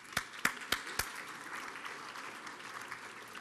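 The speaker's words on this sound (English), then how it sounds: "please give yourself a big round of applause" A gala audience at the Halls of St George claps in a brief burst. A few sharp, distinct claps stand out at first, then fade into faint, scattered clapping at a moderate distance.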